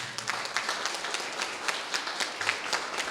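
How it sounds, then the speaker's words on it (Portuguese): A church congregation claps during a worship service, with many hands producing sharp, uneven bursts over a faint low hum, fairly close and continuous. "Aplauda ao Senhor."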